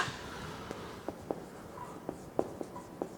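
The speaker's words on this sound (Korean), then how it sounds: "제가 띄고 여기다 써볼게요" Chalk or marker tapping and stroking on a board during a Korean literature lecture on Hegel's dialectic, a sparse series of short, soft taps and scratches spread over a few seconds, with no talk over them.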